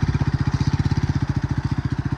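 A motorbike engine idling close by while being parked, a fast, even thumping putter that holds steady and loud throughout.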